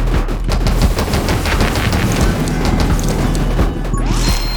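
Dense, continuous rapid weapon fire from the video game 20 Minutes Till Dawn, loud and unbroken, layered over a thick wash of game effects and music.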